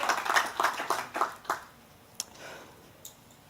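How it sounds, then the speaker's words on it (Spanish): Congregation clapping in a church service, a burst of fairly close, irregular hand claps that fades out after about a second and a half, leaving a few scattered claps. "denle un fuerte aplauso al Rey de Reyes y Señor de Señores"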